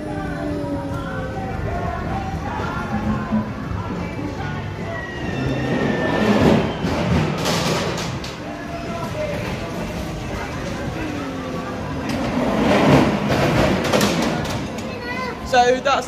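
Ghost train ride at Blackpool Pleasure Beach, with a continuous rumbling, clattering mechanical din that swells louder twice, as cars roll along the track, while people talk over it.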